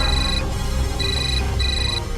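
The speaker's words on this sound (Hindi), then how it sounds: "फोन उठाओ यार" A phone ringtone plays loudly, a repeating electronic melody sounding three times in short bursts against a continuous low background hum.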